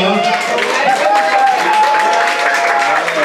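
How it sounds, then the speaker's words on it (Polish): Loud applause in a cafe in Słupsk, Poland, a crowd clapping continuously at close range while voices call out over it and someone speaks through the noise. "Słuchajcie, wielkie brawa."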